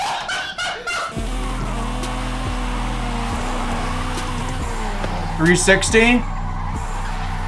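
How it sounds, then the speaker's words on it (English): A drifting car in a video game, its engine droning steadily with tires squealing and skidding through the slides. Someone talks over it and briefly laughs. "This thing is kind of fun to drift around"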